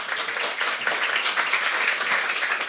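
A church congregation applauds during a Sunday worship service, a steady wash of many hands clapping at moderate volume throughout, with no voices rising above it.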